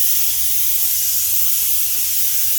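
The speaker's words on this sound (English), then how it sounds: "All day, just spraying." A continuous, loud hiss of spraying liquid runs steadily without pause.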